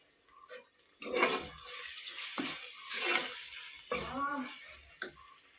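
Mint and coriander leaves sauté in a pan with intermittent bursts of sizzling and stirring scrapes, rising and falling in clusters over a quiet background.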